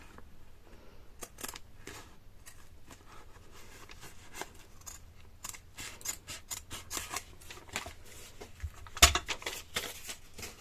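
Scissors snip through embroidery fabric to trim out a bookmark, a steady run of short, crisp cuts close to the microphone, growing louder toward the end with one sharp clack.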